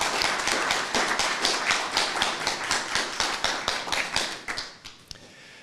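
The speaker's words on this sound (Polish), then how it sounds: "brawo dla Was naprawdę, brawo, duże brawa." Applause from the audience at an awards ceremony for a school history and nature competition, with 91 pupils from 13 Podkarpacie schools taking part. The clapping is dense and steady at first, then thins out into a few scattered claps and stops.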